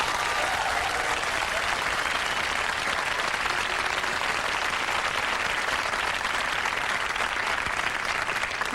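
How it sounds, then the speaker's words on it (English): Sustained, dense applause from a studio audience at a comedy talk show, a steady loud wash of clapping filling the whole stretch without a break. "By round of applause, how many people here have never been polled?"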